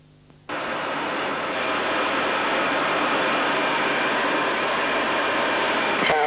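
The jet engines of a Boeing E-3D aircraft spool up abruptly for takeoff into a loud, steady broadband roar that holds for several seconds, heard from close by.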